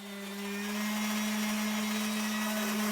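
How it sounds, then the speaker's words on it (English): A random orbit sander with 200 grit sandpaper works a steel part for a CNC router frame, a steady whirring motor hum with a constant droning tone, rising in loudness at the start and then holding level. "I decided to try giving it a quick sanding with 200 grit sandpaper on my random orbit sander"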